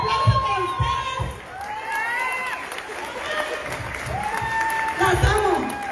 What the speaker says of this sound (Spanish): Y felicidades, y aplauso para ustedes.